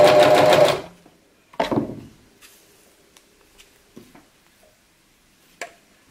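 A sewing machine runs in a short loud burst stitching lace ribbon fabric, then stops; a second brief run follows, with scattered small clicks and handling taps in the quiet between.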